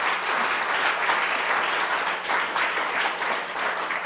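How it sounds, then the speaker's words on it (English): A healthy round of applause for the speakers fills the room, steady and dense from start to finish with no talk over it. "Let's give them a healthy round of applause."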